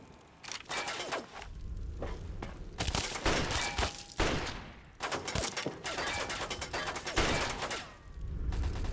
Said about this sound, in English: Oh, it's a turret. That's what's shooting at me.